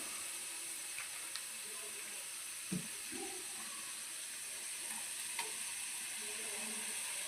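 Chicken masala and curd sizzle in a hot pan as they are stirred together, a steady crackling hiss with occasional soft spoon scrapes and clinks, close and continuous with no talking.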